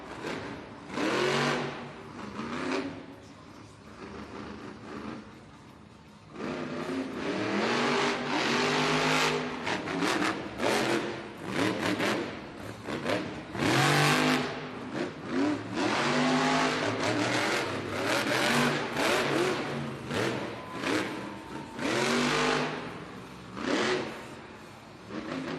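A monster truck engine roars and revs almost without pause in an indoor arena at a Monster Jam freestyle event in Baltimore, the truck sliding on a slippery dry-soil track, loud and close with rising and falling bursts.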